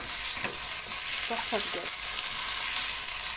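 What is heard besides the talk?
chicken and onion frying and being stirred in a pan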